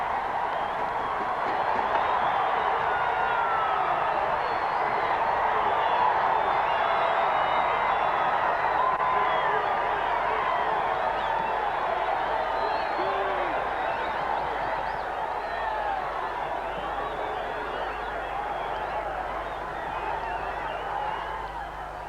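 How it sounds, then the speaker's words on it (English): A large rugby league stadium crowd roars and cheers continuously after a try at a 1990 New Zealand versus Papua New Guinea test match, a loud, sustained wall of voices with some clapping that stays full throughout. "The crowd goes wild"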